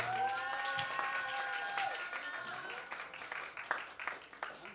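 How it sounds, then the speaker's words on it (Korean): A church congregation claps loudly for a young adult called up to the front, the applause and crowd noise rising and fading unevenly over a few seconds. "크게 박수 주십시오."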